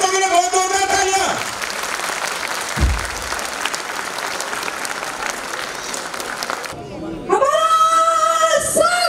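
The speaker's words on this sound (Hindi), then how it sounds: "तालियां बच्चों के लिए बहुत जोरदार तालियां" Loud applause from an audience cheering children at a Saman Sanskar festival at Civic Centre, New Delhi, sustained clapping over music with a raised voice, breaking briefly before the music returns.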